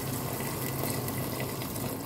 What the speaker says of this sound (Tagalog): mag-a-add tayo ng tubig para maluto yung karne